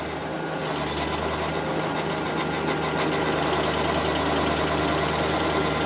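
A small tractor drives a PTO stump grinder through a stump, taking a heavier bite: a steady, loud engine drone with a continuous grinding rumble throughout.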